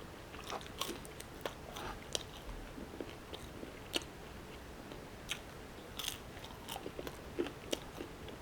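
Someone chews spicy Peruvian yuca, with faint, close crunches and bites at an uneven pace over a quiet, hissy background, no talking.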